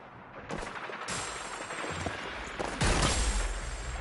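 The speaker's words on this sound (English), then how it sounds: "I'm under fire." Gunfire in the online battle royale video game Hyper Scape, a dense, continuous rattle of automatic shots with bursts growing louder and closer partway through, heard without any talking.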